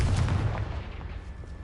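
A Confringo fire spell goes off in Hogwarts Legacy, a dense booming blast with a rumbling low-end burst that stays loud across the short moment before easing slightly.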